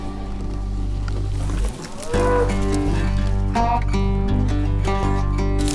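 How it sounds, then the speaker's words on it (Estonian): Several cows moo loudly and close by, deep drawn-out calls overlapping and following one another over a low steady background. "Lehmad olid väga sõbralikud"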